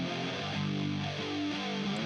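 Distorted electric guitars treated with flanger and echo, built in GarageBand, ring out as sustained layered chords in a dense, steady mix with no voices.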